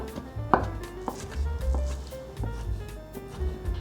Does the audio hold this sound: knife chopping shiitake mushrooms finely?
yes